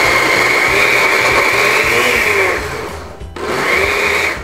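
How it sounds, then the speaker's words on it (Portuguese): A kitchen blender chops salmon for burgers with a loud, steady whirring grind that dips briefly near the end and then resumes. "Vamos aos poucos aqui no liquidificador"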